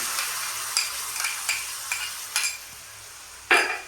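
Curd is stirred into frying masala with pointed gourd. Repeated close spatula scrapes and stirs sound over a soft, steady sizzle, ending with one louder scrape.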